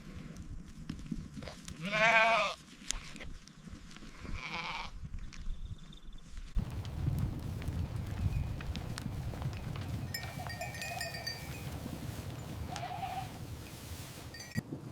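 Nubian goats on a farm bleat at feeding time in a few loud, wavering calls. Shuffling, hoof clatter and general barn noise follow, with no talking.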